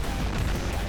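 A weapon firing in the robot combat game War Robots: one dense, booming blast that fills the whole second, loud and close, with a heavy low rumble.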